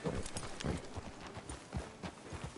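Horse hooves clip-clop in a quick, uneven rhythm on the ground in Red Dead Redemption 2, fairly close and without any talk.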